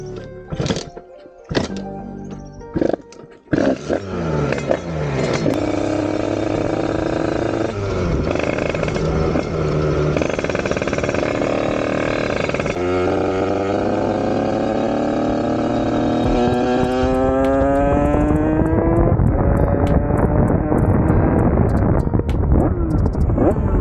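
A Yamaha DT 86 motorcycle with an aluminium top end and a tuned bottom end sputters through a few short bursts, then catches and revs hard, holding a loud, buzzing drone whose pitch climbs steadily near the end.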